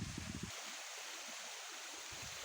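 Steady broadband rush of the Dereova waterfall and stream in Nazımiye, Tunceli, continuous and fairly close, with a brief low rumble at the start and again near the end.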